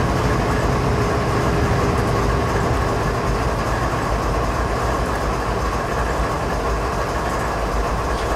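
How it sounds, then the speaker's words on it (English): A long, heavy freight train hauled by three locomotives passes through Canadian mountain passes, a loud, steady rumble of engines and rolling wagons with faint clickety-clack running the whole time. "That's a long, heavy train."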